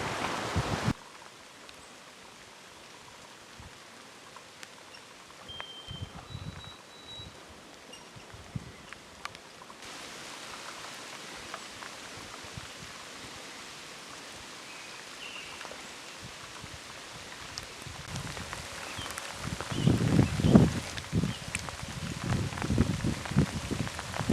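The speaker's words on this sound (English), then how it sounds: "Had a pretty steady rain for about the last hour and a half" Steady rain falls outdoors on a cold spring day during a Manitoba bear hunt, a soft continuous patter that grows louder and busier toward the end, with occasional rustles and no voices.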